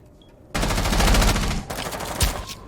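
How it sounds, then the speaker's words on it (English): Rapid automatic gunfire in an Xbox multiplayer shooter match, a loud sustained burst of fast shots, a brief break, then more firing and an explosion-like thud. "But Scapper is going to fire right back on the Valkyrie"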